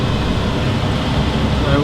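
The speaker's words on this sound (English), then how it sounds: "Right, now I'm going to put my fan on." A steady broadband whoosh of a running electric fan fills the clip, constant and fairly loud with no breaks.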